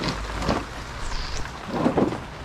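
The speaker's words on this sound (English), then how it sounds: "this rain sucks" Steady rain pours outdoors during bumper removal on a Ford Mustang. It makes a dense, continuous hiss of moderate loudness with a few deeper rumbles rising and falling through it.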